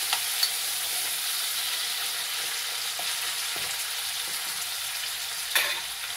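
Baby potatoes fry in hot oil for a potato curry, giving a steady, close sizzling hiss throughout with a few faint stirring clicks and one sharper scrape near the end.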